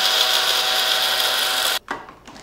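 An electric coffee grinder grinds coffee beans with a loud, steady whir that cuts off abruptly, followed by a couple of short rattles as it winds down.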